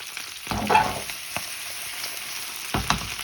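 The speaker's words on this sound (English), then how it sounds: "we are just going to let them stir fry very gently" Halved Brussels sprouts stir frying gently in a pan, a constant close sizzle broken by a few brief scraping bursts as they are moved around.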